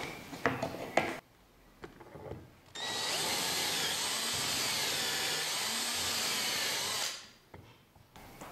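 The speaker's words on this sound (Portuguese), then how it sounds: "Então, vamos furar o lado de cá." A power drill bores holes through the side panel of a bathroom cabinet with cup hinges. A few knocks and handling sounds come first, then a loud, steady drilling whine runs for about four seconds before stopping.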